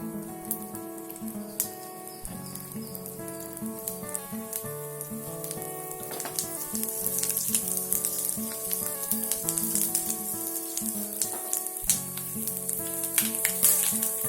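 Steady crackling sizzle of mustard seeds, fenugreek and asafoetida frying in hot oil for tempering a chickpea curry, continuous and close, with a faint clatter of utensils and no talking.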